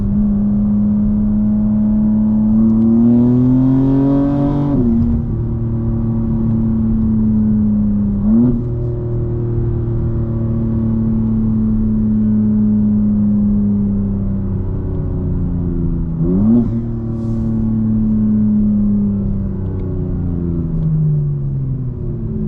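A 2025 BMW M4 Competition on new tires driving from inside the cabin, engine droning steadily through the gears with brief rising revs and sharp shift dips, loud and continuous with no talk.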